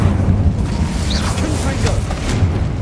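A fire spell bursts in a wizard video game, a low rumbling boom with crackle sustained through the moment, loud and close, with a voice shouting over it.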